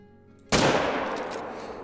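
A single rifle shot fired at a gemsbok in a lion-hunting video game, a sharp loud crack with a long ringing decay after a quiet start.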